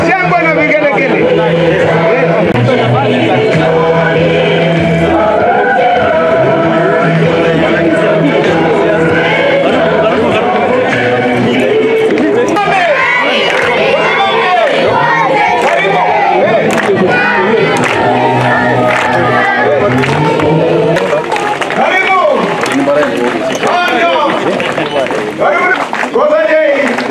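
A dense crowd at a Kenyan public gathering cheers and ululates on its feet, a loud and continuous roar of many voices with shouts rising throughout.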